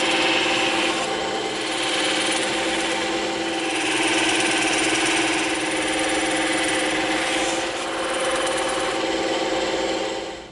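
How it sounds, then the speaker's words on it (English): A bandsaw slices through a thick 2-inch block of stacked EVA foam, giving a steady rasping, rubbing whine with low motor hum that lasts the whole stretch and swells slightly in places, with no talk over it. "We're going to knock this out on the bandsaw."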